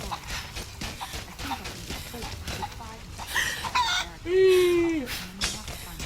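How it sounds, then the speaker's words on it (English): Chickens cluck and crow in the video game Rise of the Tomb Raider, busy and mid-distance, mixed with game music and other effects. "Catch the chickens."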